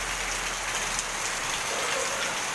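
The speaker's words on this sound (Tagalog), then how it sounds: "umuulan na naman. Ang lakas na naman ng ulan" Heavy rain pounds steadily on a house roof, a dense, loud hiss of drops with no pauses, heard close and without any talking.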